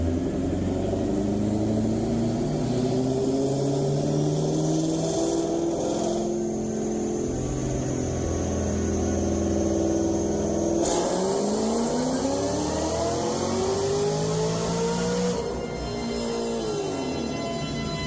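A supercharged Ford GT500 V8 fitted with a Magnuson blower revs repeatedly, its engine note climbing and falling through high RPM with a whining blower edge. The sound is loud, close and continuous, with no voices.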